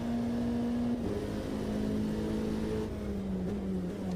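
LMP2 Raptor race car in a racing game at Indianapolis Road Course, its engine holding a steady droning note that dips with a gear change and then slowly falls, loud and continuous with no talk.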